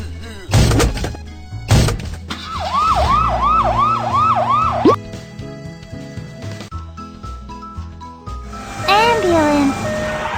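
An ambulance siren in a children's transportation game gives a rapid run of rising-and-falling electronic whoops, then another wail near the end, all layered over cheerful game music and thumping sound effects.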